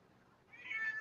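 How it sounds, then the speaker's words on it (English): A single soft, rising cat meow, faint and fairly close, rises out of quiet room tone at the end. "that's my cat"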